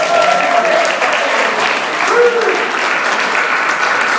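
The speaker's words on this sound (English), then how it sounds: "Give him a round of applause." Sustained applause from a crowd for a graduate fills the room, dense and steady clapping with a few voices faintly mixed in.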